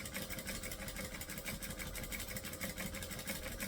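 A sewing machine stitching fabric with a quiet, steady, rapidly pulsing mechanical whir that runs continuously with no voices.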